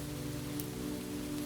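Steady rain falls on a forest path, a continuous even patter on surfaces with a soft hiss, close and unbroken with no voices.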